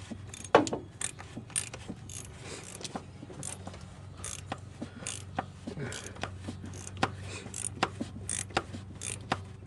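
A ratchet with an extension and 32mm socket clicks repeatedly while tightening the oil filter housing on a 2006 Chevy HHR, rapid close ratcheting bursts with metallic clanks.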